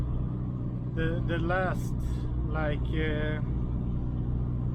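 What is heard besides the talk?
SAAB 9-5 Aero engine running during test drive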